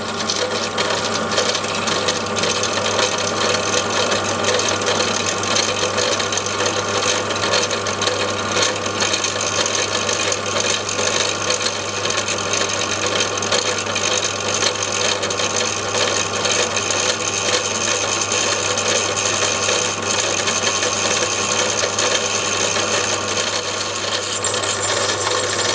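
A drill press running at 450 rpm bores a hole through a steel wrench with a masonry bit, oiled beforehand; a steady loud mechanical whine and grinding hum carries on without a break, with no voices.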